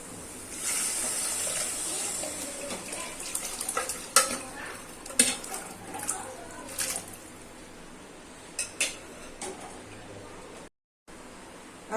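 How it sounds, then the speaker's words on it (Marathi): Cooked chicken and chicken stock go into a pan of roasted masala for a spicy Maharashtrian chicken rassa. A utensil scrapes and clinks repeatedly against the pan over a soft sizzle, close by and with no voices. "त्याच्यामध्ये आता चिकनचं पाणी आणि हे चिकन शिजलेलं घालून घेऊया"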